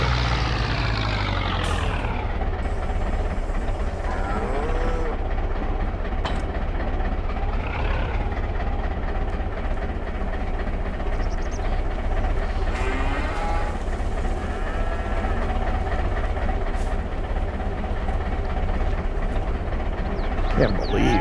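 Cattle moo in a small dairy barn in Farming Simulator 22, low drawn-out calls over a constant loud rumbling mechanical hum, with a short burst of higher tones early on.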